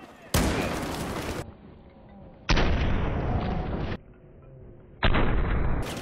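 A shotgun in Battlefield 4 booms three times, each loud blast followed by a roughly second-long ringing tail, spaced a couple of seconds apart with quieter game ambience between.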